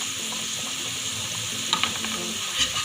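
Hot oil sizzling steadily as a coriander and cumin tadka is prepared for a lauki gosht curry, with a few sharp clinks and splashy bursts over the close hiss.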